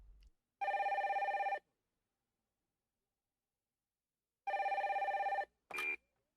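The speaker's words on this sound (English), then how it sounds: "Then the phone rings." A telephone bell rings in two long, loud bursts separated by a silent gap, with a short third burst cut off at the end; no one speaks.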